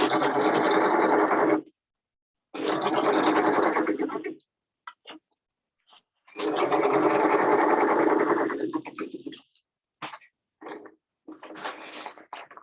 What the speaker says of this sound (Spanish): Vuelvo aquí a mi maquinita de coser, bueno, vengo y voy a coser arriba